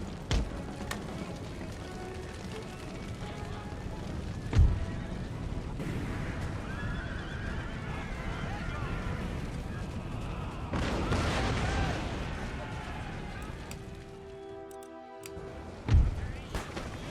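Artillery and musket volleys crack and boom across a battlefield in Empire: Total War, with horses neighing and hoofbeats in the mix, two heavy blasts standing out above a steady din of combat.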